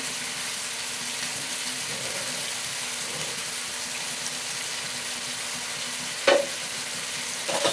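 Mutton with a spice paste of Kashmiri chilli powder and turmeric frying in a pan for kosha, a steady close sizzle with a sharp scrape of stirring near the end.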